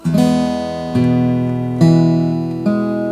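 A slow fingerpicked acoustic guitar phrase from the hymn Sweet Hour of Prayer, four plucked notes or chords spaced about a second apart, each left to ring out up close.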